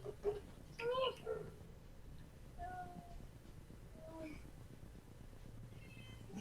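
A cat meows a few times, soft and somewhat distant, over a steady low hum of background noise, with fainter cries trailing off later.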